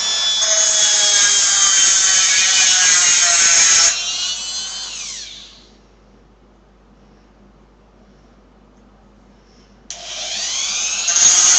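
A power drill spins a dull drill bit at high pitch for about four seconds, winds down into near silence, then starts up again loud and close, with no voices.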